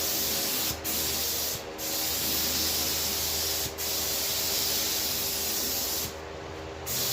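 Primer sprays onto a car hood scoop in long, steady hissing bursts with a few brief pauses between passes, close and fairly loud with no talking.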